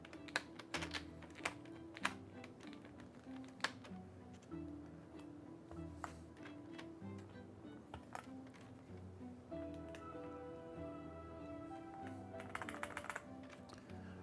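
Rapid, uneven keystrokes on a Corsair MAKR 75 mechanical keyboard, clicking steadily close up for the whole stretch with a few louder taps and no talking.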